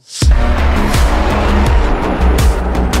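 A BMW M8 Competition sports car engine revs hard and close, with rising and falling gear-shift sweeps and a throaty roar throughout.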